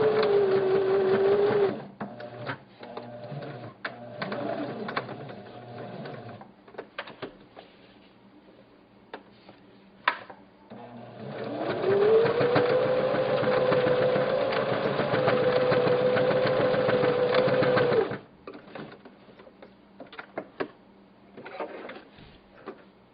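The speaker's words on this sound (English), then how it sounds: "I'll start out with just my straight stitch and back stitch over that elastic." Sewing machine running a straight stitch and back stitch over elastic, short bursts of rapid mechanical whirring, then a longer steady run, close and moderately loud with pauses and small clicks between.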